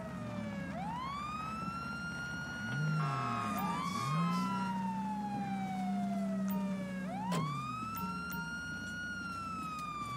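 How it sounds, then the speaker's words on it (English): Police car siren in GTA 5 wailing continuously, rising and falling in long sweeps with a brief yelp-like burst, loud and close over low engine rumble, with no talking. "I will get my siren clear, turn off real quick."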